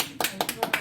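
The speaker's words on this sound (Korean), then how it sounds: "박수 쳐주시면 어때요?" Audience applause at a Korean church national prayer meeting: a few quick, sharp claps in an uneven rhythm, close and crisp, with a voice speaking over them.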